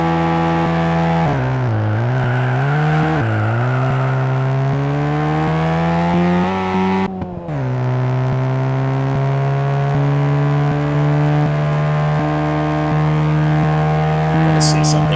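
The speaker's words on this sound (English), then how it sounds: "Sound for this car's audio is kind of disturbing." Race car engine in the Juiced video game, a loud continuous high-pitched whine that rises and falls through revs and gear shifts, with a brief dropout midway before settling into a steady drone.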